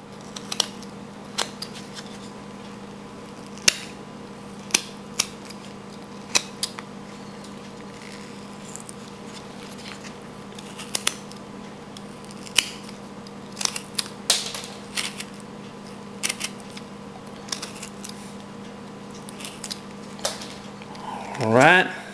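A whittling knife cuts into wood while carving a caricature coyote's tail, giving sparse, faint clicks and scraping nicks at irregular intervals over a steady low hum, with a louder rustle at the end.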